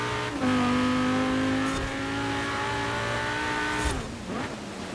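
A DLC car's engine in Forza Horizon 4, driven on a custom track, revs loudly and steadily, its pitch climbing through the gears with a brief drop near the end, and no voices are heard.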